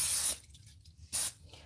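Two short bursts of cooking spray hissing onto a home waffle iron, close and loud with a quiet gap between them, no voices.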